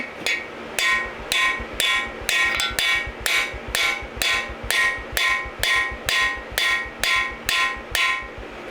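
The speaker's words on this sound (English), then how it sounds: "Going to gently tap it in so it starts going in." Steady metallic hammer taps, about two per second, gently driving a cam bearing into a Dodge 5.7L V8 engine, ringing sharply and evenly, close by with no talking.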